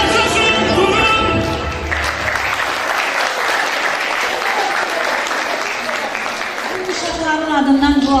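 Audience applause for a children's performance at a song concert, a dense, steady clapping crowd filling the room for the whole stretch, with some voices and music faintly mixed in near the start and end.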